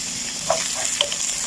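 Garlic and onion hit a little hot oil in a pan, giving a steady, close sizzle with soft stirring scrapes and a couple of brief pops.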